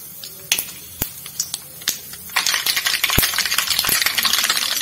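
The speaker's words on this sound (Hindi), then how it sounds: "मैं इसमें एक चम्मच सरसों डाल रही हूँ, काली सरसों है" Black mustard seeds dropped into a hot pan, sharp scattered pops and ticks of seeds and spoon against metal, growing into a denser crackle, close and fairly loud.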